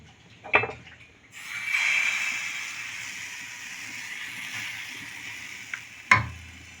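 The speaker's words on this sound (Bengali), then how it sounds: "এখন আমি ব্যাটারটা দিয়ে দেবো" Patisapta batter poured onto a lightly oiled griddle: a soft clatter, then a steady close sizzle that swells and holds, with occasional sharper knocks of a utensil against the pan.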